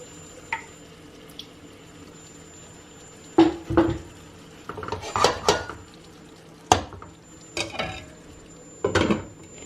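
Food stewing with a little added water sizzles softly in a pan while metal utensils clink and scrape against it in several short bursts.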